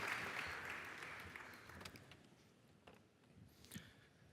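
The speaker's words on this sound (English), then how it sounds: "Jeff, your applause, please" Audience applause for Jeff Winter at an MES and Industry 4.0 conference, a dense wash of clapping that starts full and slowly thins out over several seconds, with a few louder individual claps near the end.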